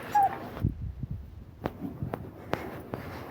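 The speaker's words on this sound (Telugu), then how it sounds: "కుక్కలు" A dog gives a short high whimper or whine, then several sharp yips and taps follow at irregular intervals, close and fairly quiet against a hushed background.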